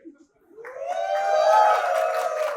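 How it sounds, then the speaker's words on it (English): A large audience at a Daf Yomi Torah lecture rises into a loud, sustained cheer that swells and holds to the end. "oh, you give such a great cheer."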